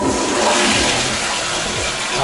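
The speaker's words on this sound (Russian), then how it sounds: "И унитаз работает он совершенно по-другому." A loud American toilet flushes, a rushing surge of water swirling down the bowl in one continuous gush, close up with no one talking.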